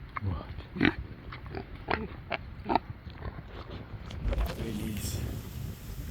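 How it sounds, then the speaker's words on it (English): Kune Kune pigs grunt in short, irregular snorts outdoors, close to the microphone over wind noise, with one longer rooting rumble near the end. "I know, you're a piggy."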